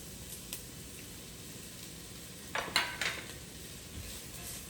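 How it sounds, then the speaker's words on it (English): Vegetables sauté in olive oil in a pot, a soft low sizzle under a few clinks and a short cluster of stirring scrapes and spatters near the middle, with no talking. "So we're going to saute these for just a second to get those started."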